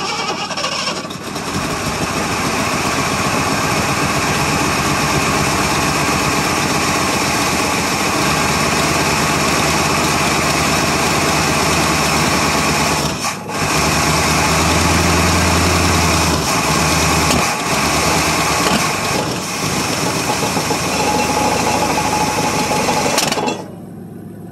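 A 1977 Ford F150 Supercab's 460 V8 runs after a cold start, its loud, continuous, rough engine drone holding for about twenty seconds with one brief dip midway before it cuts off.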